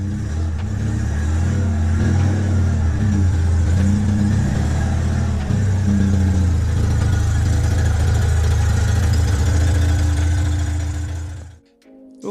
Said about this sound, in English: Now I'm going to move the Citroen out of the way so we can see if the Peugeot will drive out of here.